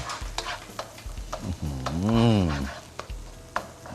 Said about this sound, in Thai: ผัดให้เขาเดือดอีกรอบนึงนะครับ เพื่อให้เขาหอม